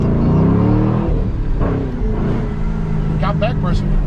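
Supercharged car pulling away in first gear, a loud rough engine drone rising in pitch under overlapping talk from people nearby.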